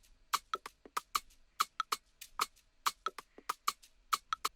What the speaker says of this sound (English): I also wanted to add this little drum loop.